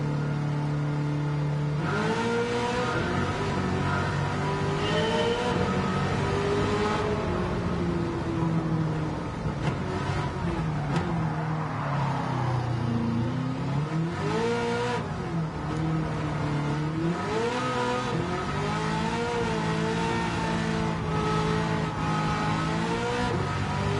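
Racing car engines in Gran Turismo 7 rev and shift continuously, pitch climbing and dropping through the gears in a loud, steady stream of acceleration with no talking.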